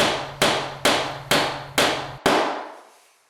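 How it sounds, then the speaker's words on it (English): A hammer drives a nail into a plastic drywall anchor to spread it for a wire shelf clip: six sharp, evenly spaced strikes about half a second apart, close and clear, the last ringing out into silence. "hammering a nail in spreads that anchor and grabs on to the"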